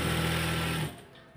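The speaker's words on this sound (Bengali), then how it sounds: "আমি একটু সেলাই দিয়ে দিচ্ছি।" An electric sewing machine stitches the inseam of palazzo pants in a steady, fast mechanical whir for just under a second before stopping, leaving quiet room tone.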